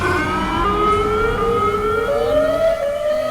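Siren Head's wailing siren in an elevator horror game blares loud and close, a sustained, slowly gliding multi-tone howl with no voices over it.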